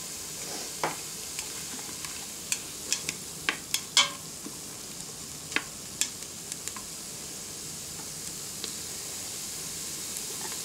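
Onion and garlic sautéing without oil in an Instant Pot, a steady soft hiss broken by scattered clicks and scrapes from a utensil moving the pieces around, close and with no voices.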